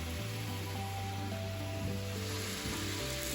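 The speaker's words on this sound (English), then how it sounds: "I'm going to deglaze this pan a bit." Chardonnay wine poured into a hot pan to deglaze it gives a steady, soft sizzle and bubbling hiss that carries evenly through the short stretch without any talk.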